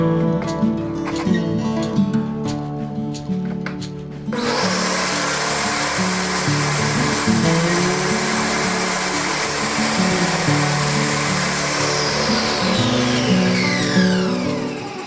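A power saw trims a firewood drum stave to width in a second shaving pass, a loud steady whine with shifting tones that grows denser and rougher once the blade bites into the wood, continuing without pause.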